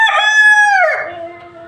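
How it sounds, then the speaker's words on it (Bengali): Fayoumi rooster crowing in one loud, close call that tails off, with hens of the same breed clucking faintly afterward. "এখানে আমার ফাউমি মুরগি, 2টি মুরগি এবং 1টি মুরগ আছে।"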